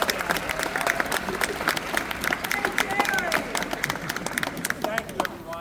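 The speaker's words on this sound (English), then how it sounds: "we're going to give him a big round of applause" A crowd at a political rally on immigration bills breaks into dense, sustained clapping, steady and moderately loud, with a murmur of voices mixed beneath the applause.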